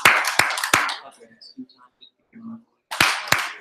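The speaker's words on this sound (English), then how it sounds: "Clap your hands 2 times." People clap their hands twice in sharp, loud bursts, then again twice later, with quiet gaps and faint voices between.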